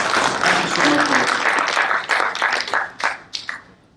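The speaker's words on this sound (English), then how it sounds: "please give a big round of applause" Audience applause at a gold and silver market conference panel, dense clapping that thins into scattered claps and fades out over a few seconds.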